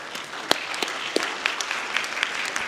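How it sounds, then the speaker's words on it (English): A small group applauds with scattered, uneven claps, fairly close and moderately loud, with no voices. "let's give a big applause to our speakers"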